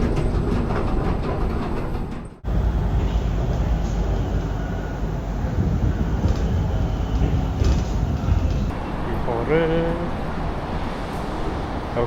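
Subway train in Malaysia rumbling steadily at close range, with a brief drop in noise and then a continuous rolling roar, faint squealing tones near the end.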